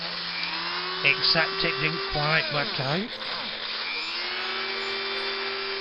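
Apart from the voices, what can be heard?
drill drilling out a Corgi die-cast model car body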